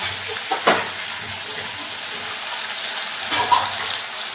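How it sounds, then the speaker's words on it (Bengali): Mustard-chili paste sizzling in a pan for a flat-bean curry, a continuous close frying hiss with a couple of scraping stir sounds and soft knocks, no talking. "এবার দিয়ে দেবো সর্ষে লঙ্কা বাটা"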